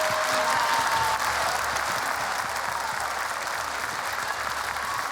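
Anniversary concert audience applauds, a full, steady clapping from a large hall, loud and even throughout with a rhythmic low pulse underneath.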